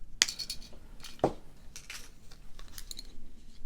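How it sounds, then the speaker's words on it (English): Snips of 20 gauge jewelry wire being cut by hand, two sharp metallic clicks close up near the start and middle, with faint light handling noise between. "I'm going to use some 20 gauge wire. So I'm just going to cut a few inches off"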